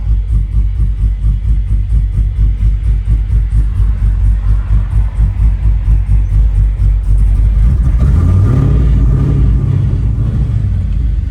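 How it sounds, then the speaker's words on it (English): A car engine runs on a first test drive with a steady, loud pulsing rumble, then a rising rev partway through, heard close up with no talk. "we are on the ground and going for the first test drive"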